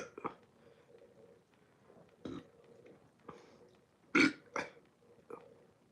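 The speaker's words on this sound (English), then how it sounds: "Sorry, I had to burp." Late-night live stream with a beer-drinking host, with a few short, close, deep belch-like bursts scattered among quiet murmured talk, the loudest one coming after a brief pause.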